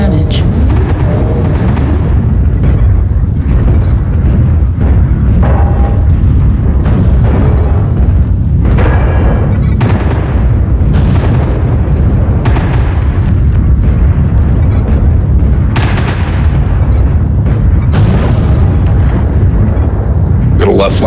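Explosions in a mech combat video game, where a target is destroyed, boom repeatedly over a loud, constant rumble of battle, with in-game voice lines running throughout.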